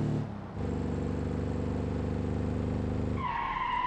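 A car in BeamNG.drive brakes hard with its wheels locked, and a loud, steady engine-and-tire drone holds for nearly three seconds before cutting to a higher squeal at the end.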